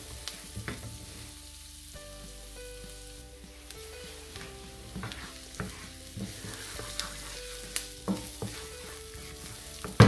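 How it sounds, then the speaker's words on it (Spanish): Filling browning in a little added oil in a pan, with a soft continuous sizzle and scattered clicks and scrapes of stirring throughout, fairly quiet and close, no voices. "Agregamos un poquito más de aceite. Y lo ponemos a dorar"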